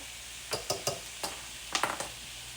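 Thinly sliced meat for street tacos sautéing in a pan, with several sharp sizzling bursts and scraping stirs over a faint steady hiss, close and fairly quiet.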